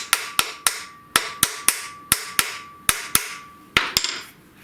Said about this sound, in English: you can get a hammer and flatten them